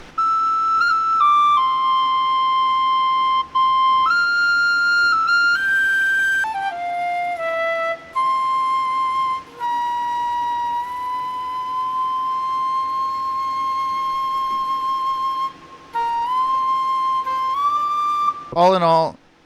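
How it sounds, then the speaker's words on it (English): Folk tin whistle from a Celtic instrument library, played in FL Studio: a bright, steady solo melody of sustained notes and quick step changes, loud and alone throughout, ending with a fast rising run. "You've also got flutes like you've got this folk tin whistle."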